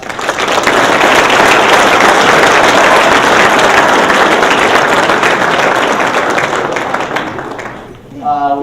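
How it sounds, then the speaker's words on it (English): Loud, sustained applause fills a junior golf tour awards banquet, dense clapping from a large audience lasting several seconds before tapering off near the end. "Please, let's give them a round of applause."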